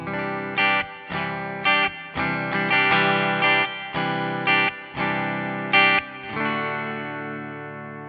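A Fender Cabronita Telecaster electric guitar plays chords through effects with distortion and chorus, strummed in rhythmic stabs before a final chord rings out, with no talking.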